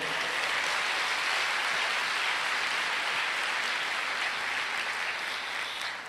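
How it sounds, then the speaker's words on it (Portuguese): A church congregation claps for the Lord in a sustained wash of applause that holds steady for several seconds before easing slightly at the end. "Você pode aplaudir o Senhor?"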